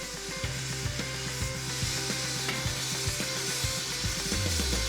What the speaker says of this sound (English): A torch is used to melt the gold.